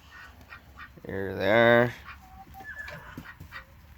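Backyard chickens, roosters and a Cayuga duck call out nearby, with one loud, sustained harmonic cry like a rooster crow standing out above softer scattered clucks and chatter. A person speaks briefly.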